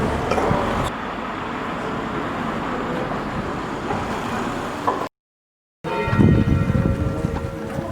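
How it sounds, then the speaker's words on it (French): Church bells ring in a French country town at midday, loud, clanging and sustained over traffic noise. The sound cuts out briefly, then returns just as loud. "Vous avez déclenché les cloches, monsieur Mogui?"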